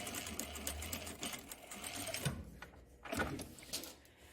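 A sewing machine stitches a tag onto the edge of a tie top, a quiet rapid mechanical whir in short runs with small pauses, close by, with no talking.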